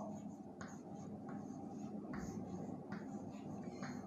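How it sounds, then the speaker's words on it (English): Chalk or marker scratches across a classroom board in short repeated strokes while a sentence is written, faint and close, with quiet breathy speech underneath. "Just let me write one sentence here."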